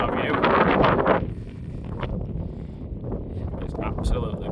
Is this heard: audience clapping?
no